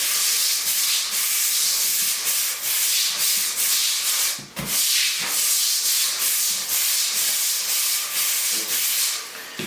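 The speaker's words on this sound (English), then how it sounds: "So just scrub that down real good" Brisk scrubbing of a barndominium shower surface, a continuous close rasping with rhythmic strokes and a brief pause midway, no talking.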